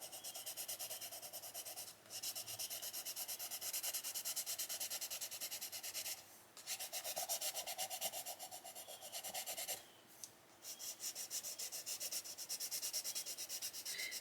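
Colored pencil strokes rub steadily across paper while blending a light Caribbean Sky shade, a continuous close scratchy rasp with a few brief pauses between passes.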